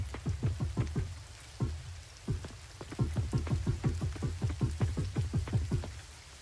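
Steady rain patters throughout a rainy day in the farming game Coral Island, a dense run of close, crisp drop ticks with brief lulls, heard alone with no voices.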